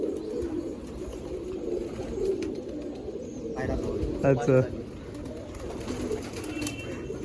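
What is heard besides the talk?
pigeons cooing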